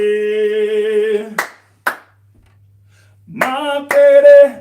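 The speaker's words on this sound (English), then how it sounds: "Double clap." Children clapping twice in a kapa haka session, two sharp sets of claps between sustained sung or chanted voices, loud and close.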